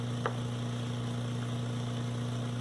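A vacuum pump draws air out of a large vacuum press bag, a steady low mains-like hum with a faint whir running unchanged throughout, with one small tick near the start.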